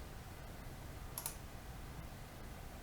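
One short computer mouse click opens Windows Explorer on a Windows PC. It is a single crisp tick against a faint, steady background hum.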